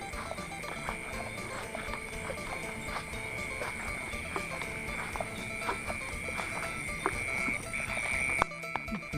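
Frogs croak in a steady, busy chorus beside a rice paddy, with many close, repeated calls over a constant high insect-like drone and no voices.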